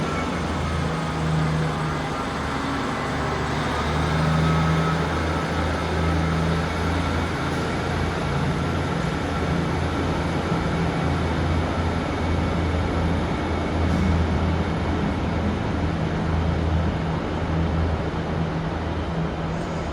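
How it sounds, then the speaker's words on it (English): A Northern train on the Stalybridge to Southport service pulls away from a station platform, giving a steady, low, continuous rumble that holds at an even level throughout, with no talking. "Departing out now is the 1808 Northern service from Stalybridge to Southport."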